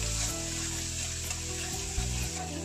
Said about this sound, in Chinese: 油烧了之后放入姜米、蒜米，